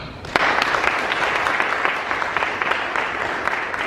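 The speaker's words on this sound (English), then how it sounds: "give yourselves a big round of applause because you're all brilliant." A school senior awards ceremony crowd applauds, with a sharp first clap followed by sustained, fairly loud, even clapping from many people that carries steadily to the end.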